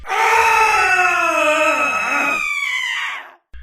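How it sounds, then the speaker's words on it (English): Single long, anguished wailing scream from a voice, loud and close, sustained for about three seconds with a wavering pitch before trailing off. "I've taken a moment to hear Meyer fans scream in rage and agony"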